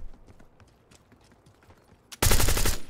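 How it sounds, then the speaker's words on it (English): Gunfire in the video game Black Ops 6: quiet footsteps and faint clicks give way to a sudden loud burst of rapid automatic shots at the end. "That was terrible shooting on my part."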